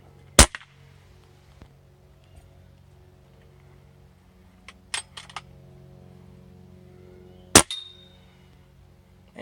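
Gauntlet air rifle firing Crosman pellets at a metal spinner target on a low tank, three sharp separate cracks spaced several seconds apart, each followed by a brief metallic ring, with faint background hum and no talking.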